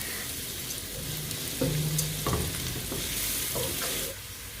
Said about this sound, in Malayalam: നന്നായിട്ട് വഴന്ന് നല്ല ഒരു ബ്രൗണിഷ് കളർ ആകുന്നത് വരെ നമുക്ക് വഴറ്റിയെടുക്കണം.